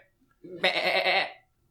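A person imitates a goat with a single drawn-out nasal bleat, loud and close, lasting under a second against a quiet background.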